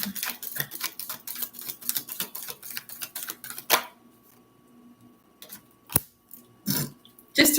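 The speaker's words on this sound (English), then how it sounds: "Why am I shuffling?" Tarot cards being shuffled give a run of crisp, rapid clicking and snapping bursts, close and fairly loud, then sparser flicks after a pause.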